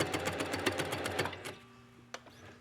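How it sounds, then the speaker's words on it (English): A sewing machine stitches silk dupioni, its needle pounding in a rapid, steady rhythm up close before stopping, leaving a low hum and a single small click. "So I put my presser foot down and just start."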